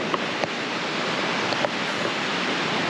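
Surf rolling onto Omaha Beach on the English Channel in Normandy, France, a steady broadband wash of breaking waves with a couple of faint clicks, no voices.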